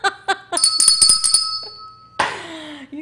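A bell rung on a radio show: a few quick bright taps, then a sustained ringing tone that holds before a sharp clatter cuts in, close and clear with no talking.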